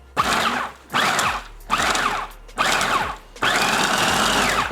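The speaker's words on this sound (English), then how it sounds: "We got our breadcrumbs in the food processor." A food processor chops breadcrumbs in short, loud whirring pulses, four or five bursts separated by brief pauses, the last one running longer.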